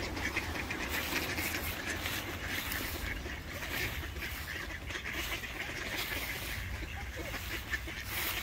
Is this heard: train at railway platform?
no